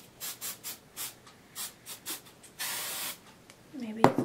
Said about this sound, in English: Now that the hairspray is in the hair